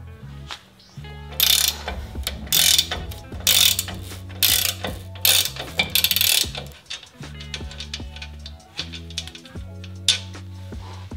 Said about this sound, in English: I'm gonna start by removing the lower shock bolt. So this is a 17 millimeter bolt.